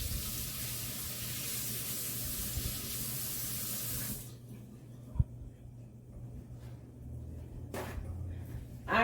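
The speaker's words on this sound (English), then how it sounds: "Let me rinse off my hands right quick." Tap water runs steadily while hands are rinsed at a kitchen sink during chili cooking, a broad close hiss for about four seconds, then cutting off to quiet room noise with a small knock and a brief later spray.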